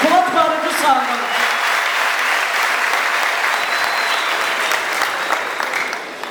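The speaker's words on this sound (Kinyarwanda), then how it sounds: "Mwaretse tugakomera Imana amashyi yatwongeye abandi bantu kuba twari dusangana." A church congregation applauds steadily and loudly, a dense crowd of clapping at a gospel choir service that fills the whole stretch without a break.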